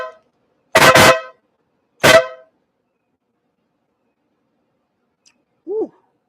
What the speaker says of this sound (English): I guess we're busting off 5 honks.